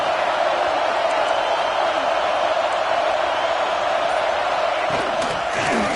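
Stadium crowd noise from the Madden NCAA football video game, a steady loud roar of a packed crowd that holds the whole time, with brief swells of cheering near the end.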